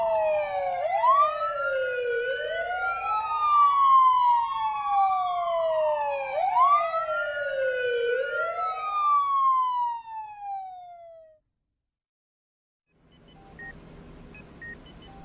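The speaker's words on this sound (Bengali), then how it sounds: "জিপ আর অ্যাম্বুলেন্স শহরের বুক চিরে বো বো শব্দ করতে করতে ছুটে চলল" A jeep and an ambulance race through a city at night with sirens wailing, rising and falling sweeps that overlap and repeat before cutting off, followed by a faint rumble.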